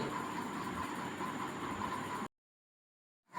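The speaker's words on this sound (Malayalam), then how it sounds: "നമ്മൾക്ക് പോകാനുള്ള ട്രെയിൻ ഇതാ എത്തിക്കൊണ്ടിരിക്കുകയാണ്" Guruvayur–Madurai Express arriving at Chengannur station: a steady, loud rumbling wash of train noise for about two seconds, then an abrupt cut to silence.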